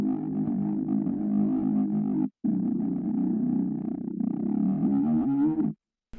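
A saw-wave synth bass in a music production, buzzy and mid-heavy, plays sustained notes with short gaps, its pitch gliding and wobbling between notes toward the end.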